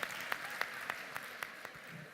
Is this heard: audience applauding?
yes